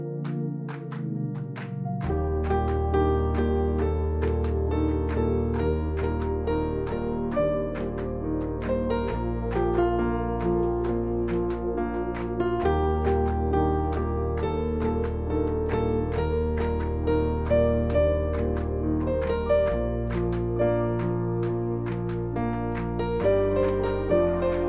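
The intermediate-level arrangement of the chorus plays alone, with no voices, as a steady stream of evenly struck notes over sustained low chords.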